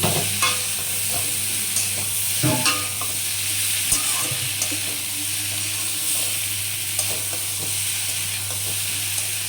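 Vegetarian papaya curry, sweetened with a little sugar, sizzles steadily as it sautés in a pan, while a utensil repeatedly scrapes and stirs with soft, uneven knocks close by.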